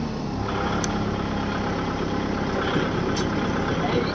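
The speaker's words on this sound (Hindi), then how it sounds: "जैसा कि आप दोस्त देख पा रहे हमने ये रोटावीटर चला दिया।" A Kubota tractor drives a rotavator, its engine giving a loud, steady close-up drone with rough low rumble and no breaks.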